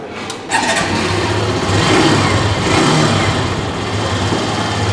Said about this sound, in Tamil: வண்டியை வந்து ஸ்டார்ட் பண்ணி பார்க்கலாம்